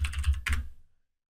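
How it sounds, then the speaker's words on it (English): Several quick keystrokes on a computer keyboard, a short burst of close clicky taps that stops abruptly and leaves silence. "I'm going to type in check mark."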